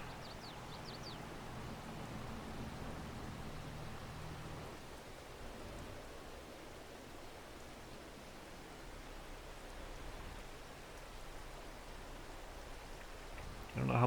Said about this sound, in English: we can sit here and count the raindrops